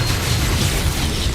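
An Expulsar spell explosion in Hogwarts Legacy: a dense, loud, roaring blast with heavy low rumble that fills the whole short moment without any clear attack or decay, with no talk over it.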